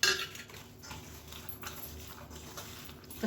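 Chickpeas are stirred together with chilli powder, turmeric, chopped coriander and curry leaves, giving soft, irregular scraping and clinking of a utensil against a bowl, quiet and close, with no talking.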